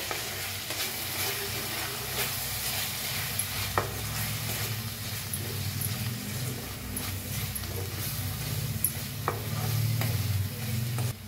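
Spiced vegetable mixture with turmeric, Kolhapuri red chilli powder and salt stirred in a hot pan, a steady close sizzle with occasional sharp spoon clinks against the metal.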